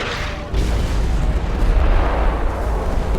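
Naval artillery from a battleship engagement against the Bismarck: a heavy boom at about half a second gives way to a sustained, loud low rumble of shellfire and explosions, with no speech.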